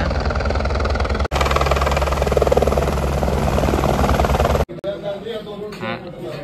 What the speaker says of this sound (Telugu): హెలికాప్టర్ వచ్చి ల్యాండ్ అవుతుంది ఇక్కడ చూడండి